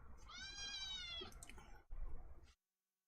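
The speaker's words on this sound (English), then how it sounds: "Cat's in the room." A cat meows indoors in a long, clear, close cry, followed by a shorter second call after a brief pause.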